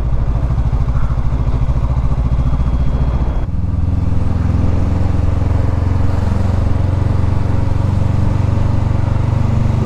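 A motorcycle rides along a seaside road in Ilocos, its engine a steady close rumble with a clattering, throbbing drone that shifts and smooths out midway, with no voices.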